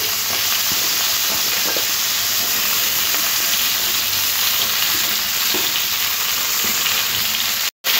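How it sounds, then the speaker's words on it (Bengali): Ridge gourd, potato and drumstick pieces fry in hot oil for a rohu fish curry, giving a loud, steady sizzle that holds without a break until a brief dropout near the end. "দিয়ে এবার সব সবজিগুলো তেলের মধ্যে দিতে হবে"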